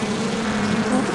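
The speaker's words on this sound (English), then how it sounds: "Uh-oh! You hit the beehive." Bees swarming from a struck beehive in a children's driving video game, a loud, steady buzzing drone that fills the short clip with no talk.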